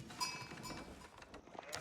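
Sheep and other livestock in the real-time strategy game Age of Empires IV, heard as faint, scattered bleats and clinking bell-like tones against a quiet game background.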